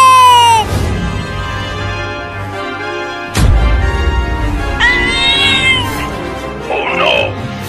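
Cartoon cat meowing: several drawn-out, rising and falling meows in a comedic animated scene, loud and close, with a sharp thud midway and squeaky cries toward the end.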